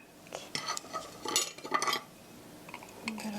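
Cinnamon sugar powder being stirred, with a spoon clinking and scraping against a bowl in several short, irregular bursts at moderate volume.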